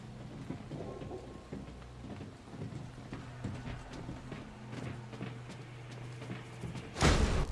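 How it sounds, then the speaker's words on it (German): Steady rain in the horror video game The Quarry, a constant hiss with scattered drops and a low rumble beneath, ending in a loud burst of noise at the close. "Aber das sind so einzelne Regentropfen."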